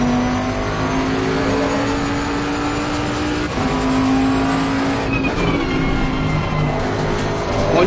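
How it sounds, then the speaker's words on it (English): Race car engine in Assetto Corsa Competizione at Zolder, a loud sustained high-rev drone pinned near the limiter in first gear, briefly dipping with a gear change before climbing again, close and continuous without talk. "Especially in first gear as well, you hit the limiter really quickly"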